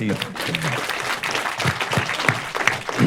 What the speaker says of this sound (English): Yeah, you can applaud Andres.